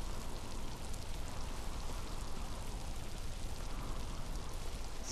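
Steady rain falls in the Miasmata video game, a dense, even hiss of drops on surfaces that holds constant throughout with no voices over it.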